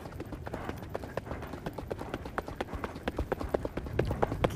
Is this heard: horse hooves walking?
yes